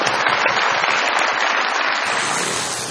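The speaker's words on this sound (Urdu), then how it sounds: "بہت ساری تالیاں جی." A studio audience claps steadily on a comedy talk show, a dense, sustained wash of applause that holds loud throughout and thins slightly at the very end, with no voices over it.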